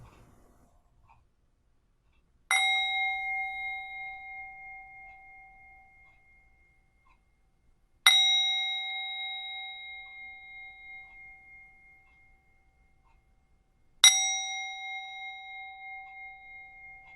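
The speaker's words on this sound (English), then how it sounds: "Let's ring our bells and begin our service." Three separate bell strikes mark the start of a church service at the Sonoran Desert Center, each ringing out clearly and alone with a bright metallic tone that decays slowly over several seconds, spaced about six seconds apart.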